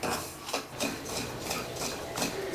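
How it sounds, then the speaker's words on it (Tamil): Semolina (rava) roasting in a kadai, a dry rhythmic scraping and rubbing as it is stirred, several close strokes in a steady back-and-forth pattern. "இப்போ இந்த ரவையை சேர்த்துட்டு இதை நல்லா வறுக்கணும்."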